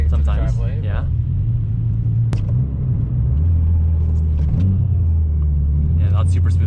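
Mitsubishi Lancer Evo X engine rumbling steadily through a downshift, the low drone dipping briefly and then settling back in, heard from inside the car under conversation.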